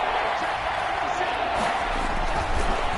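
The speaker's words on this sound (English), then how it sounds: "this is where the Arrowhead crowd can make it very tough" Stadium crowd roar at Arrowhead during a Chiefs vs Patriots divisional game in Madden 21, swelling on 3rd and goal: a loud, steady wall of crowd noise with no pauses.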